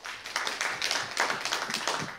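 Audience at an academic symposium on Korea–China history gives a short round of applause, sparse distinct claps at a modest level, fairly close and without talk over them.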